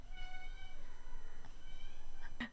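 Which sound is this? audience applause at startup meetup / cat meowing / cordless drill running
cat meowing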